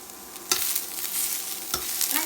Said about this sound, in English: So I'm going to add in the bottoms of the bok choy and the napa cabbage.